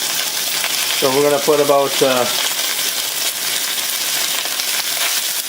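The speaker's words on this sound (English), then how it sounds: "Now we're going to put some beef down. So this is the marinated beef I did from last night." Marinated beef searing in a hot wok, a steady loud sizzle and crackle throughout while someone speaks briefly over it early on.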